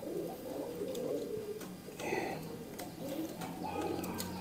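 A female breeding pigeon coos in repeated soft, low phrases, moderately close, mixed with faint chirps from other birds and occasional light clatter in the background.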